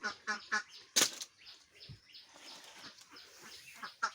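Ducks in a rearing shed flap their wings in quick bursts and give scattered quacks and calls close by, with no human speech.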